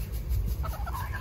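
Chickens cluck and murmur softly in a hen house by a Minnesota chicken run, several birds calling in short bursts over a low background rumble.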